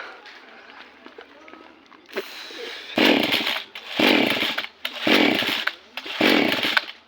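A chainsaw cuts into a coconut tree, its engine roaring in four loud bursts separated by short drops to idle after a quieter start, with voices talking nearby.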